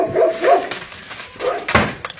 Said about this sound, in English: Get out of here, dogs!